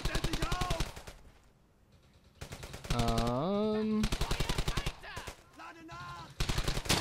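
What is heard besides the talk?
Browning automatic rifle gunfire in Brothers in Arms video game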